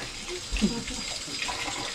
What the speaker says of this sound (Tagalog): Gripo na yun, may gripo na.